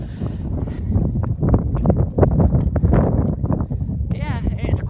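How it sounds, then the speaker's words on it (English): Gusty wind on the hillside path of Mam Tor near Castleton buffets the microphone with a low, rough rumble, while a person talks over it, close by. "as you can hear, it's a little bit windy"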